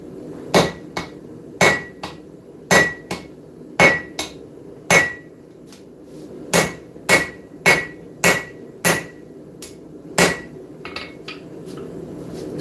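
Hammer forging a blade on an anvil, about a dozen sharp ringing metallic strikes in loose rhythm, some followed by lighter rebound taps, loud and close with quiet gaps between blows.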